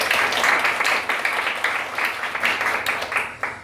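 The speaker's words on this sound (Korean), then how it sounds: "우리 힘찬 박수로 신천지 강사님의 발표를 들어보겠습니다" An audience at a Korean church debate forum gives a round of applause, a short even burst of many hands clapping at moderate volume that carries on for nearly four seconds.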